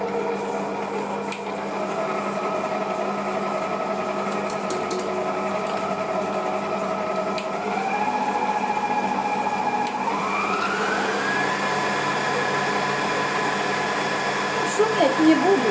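An electric mixer whisks sugar into butter with a steady motor whine. Its pitch climbs in two steps as the speed is raised, then holds at a higher, fairly loud level.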